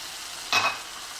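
Cauliflower rice cooking in a pan as spices go in, a quiet background hiss broken by one short, bright sizzle-and-scrape burst near the middle.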